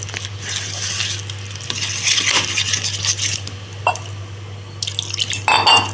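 Flour batter being mixed by hand in a bowl with a pinch of turmeric, giving soft wet squelching and dripping sounds with occasional light clinks of utensils, close and steady with no talk.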